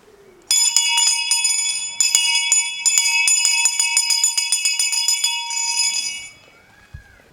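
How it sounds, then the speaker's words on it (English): A bell rung in quick repeated strikes for about six seconds, its bright ringing tones stacking up before it stops and fades into near silence. "Ring the bell."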